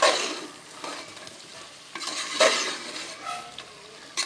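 Chunks of mutton being turned and stirred through a thick spicy gravy in a pan, with scraping utensil strokes in uneven bursts over a steady low sizzle, fairly close and alone.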